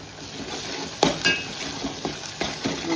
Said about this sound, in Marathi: मसाले 1 मिनिटासाठी परतून घेऊया।